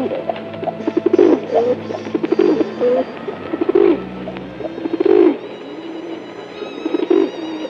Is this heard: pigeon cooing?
yes